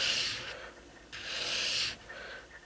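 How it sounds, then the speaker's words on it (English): Convex knife bevel drawn across a strop to put on a micro bevel, giving two broad, soft rubbing strokes, close and steady, with a quiet pause between them and no talking. "And then I do a stropping motion"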